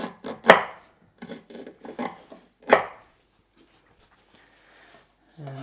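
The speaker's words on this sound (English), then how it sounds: "Again, give it a rough chop so it goes down easier." Several sharp knife chops through lemongrass on a board, clustered in the first three seconds and separated by short pauses, fairly close and crisp.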